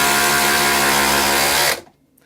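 A DeWALT DCF870 hydraulic impact driver runs loud and close, a steady dense whirring drone that holds for nearly two seconds before stopping abruptly into quiet.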